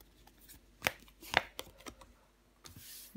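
Tarot cards being laid down onto a table, heard as a few soft, close slaps and papery taps spaced out over a few seconds with light shuffling in between.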